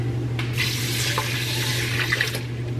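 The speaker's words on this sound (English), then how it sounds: "I'm gonna do two cups of water." Two cups of water pour into an Instant Pot for cooking quinoa, a steady splashing stream running continuously and close over a low appliance hum.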